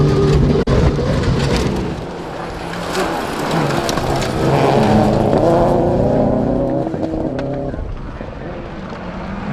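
A rally car engine drones and revs from inside the cabin during a UK rally stage, a loud, constant rumble that swells as it accelerates, with a commentator's voice over it.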